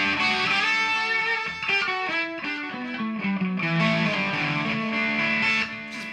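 Electric guitar played through a Pod HD500x into a DT50 amp with a Marshall JCM800-style tone and delay effect, a flowing melodic line with repeats trailing behind each note.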